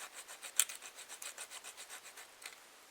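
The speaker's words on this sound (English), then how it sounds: "So I'm going to grind these down" Wooden buck saw parts ground down by hand: a quiet, rhythmic rasping rub, roughly five strokes per second, close and steady for three seconds with one sharper scrape early on.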